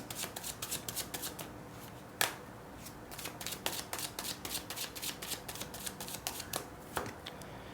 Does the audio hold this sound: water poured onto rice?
no